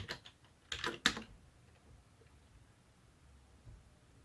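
A password is typed on a computer keyboard in a short, faint burst of a few quick key clicks, followed by near silence.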